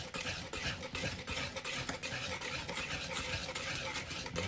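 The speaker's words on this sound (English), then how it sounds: "let's stir that stuff in here too" A spoon used as a whisk stirs batter in a pan, giving a fast, continuous run of scraping clinks and light sizzle-like scratching, steady and close with no talking.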